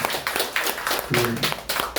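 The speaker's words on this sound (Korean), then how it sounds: "네, 큰 박수 부탁드리겠습니다." An audience at a lecture and discussion session in a small cultural venue gives steady applause, with loose, overlapping claps close by and some voices mixed in.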